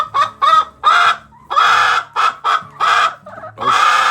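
A backyard chicken clucks in a run of loud, close, choppy bursts, some drawn out into squawks, with brief gaps between calls and no talking.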